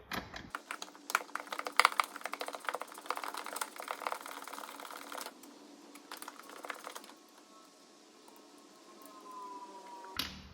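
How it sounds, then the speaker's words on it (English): A quarter-inch drive ratchet removes 13mm bolts from the brake master cylinder of a BMW MINI, with a close, rapid run of clicking and rattling that thins out after a few seconds into quieter, sparse clicks. "now we want to get to these two 13mm, which we can just use a quarter drive ratchet"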